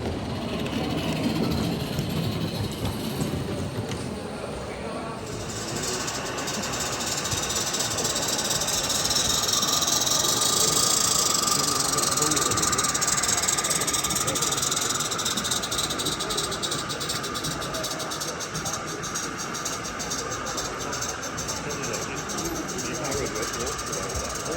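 16mm-scale garden railway steam locomotive pulling a coal cart at an outdoor show, steady hissing steam and chuffing with a mechanical rumble, fairly quiet, with people talking nearby.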